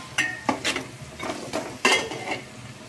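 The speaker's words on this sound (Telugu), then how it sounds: "పచ్చిమిరపకాయలు, క్యారెట్, అవన్నీ వేసుకొని ఒకసారి మంచిగా కలుపుకోవాలి" A spoon scrapes and stirs green chillies and carrots in a pot for vegetable pulao, several quick clinking strokes close up with a soft sizzle underneath.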